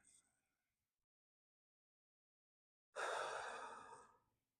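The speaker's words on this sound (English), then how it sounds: "take a deep breath" One long, deep breath drawn and released close to the mic during a calm motivational talk. It comes as a single airy rush after a few seconds of near silence, then fades.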